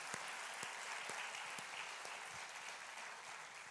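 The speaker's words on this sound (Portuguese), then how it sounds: "Vamos aplaudir ao Senhor." A church congregation applauds in praise, with dense, continuous clapping at moderate distance holding steady throughout.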